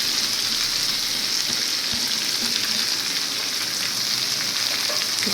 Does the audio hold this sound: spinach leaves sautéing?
yes